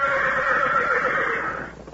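A horse gives one loud, sustained neigh with a quavering whinny that trails off and fades near the end.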